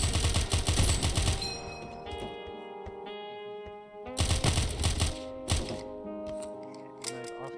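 Bursts of gunfire in the stealth game Of Murder and Moonshine, loud clusters of sharp shots with music underneath, pausing then returning in heavy volleys around the middle and end.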